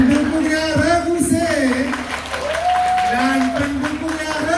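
Supporters of team C clap at a junior high school quiz competition, a continuous crowd applause beneath an amplified voice speaking throughout.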